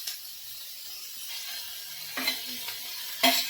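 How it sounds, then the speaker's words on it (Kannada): Tomatoes dropped into sweet corn masala frying in a pan, with a steady soft sizzle throughout and a few brief stirring or scraping clicks near the end. "ಒಂದು ಸ್ವಲ್ಪ ಫ್ರೈ ಆದ್ಕೂಡ್ಲೆ ಅದ್ರೊಳಗೆ ನಾನು ಟೊಮೆಟೊನ ಆ್ಯಡ್ ಮಾಡ್ತೀನಿ"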